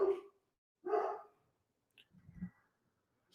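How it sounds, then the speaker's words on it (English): A dog barks a couple of times, sharp and fairly close, followed by a softer low woof and a small click in an otherwise quiet room. "bring him in here if he barks again"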